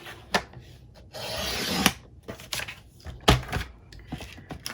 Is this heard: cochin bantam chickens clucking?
no